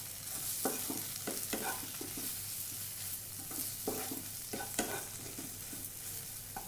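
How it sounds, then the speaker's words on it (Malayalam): Spice powders, including pepper powder, frying in a pan as the base for cauliflower kurma, giving a steady close sizzle with repeated scraping stirs of a spoon against the pan. "ഇതിൻ്റെയൊക്കെ പച്ചമണം മാറുന്നവരെ നമ്മളൊന്ന് ചൂടാക്കണം"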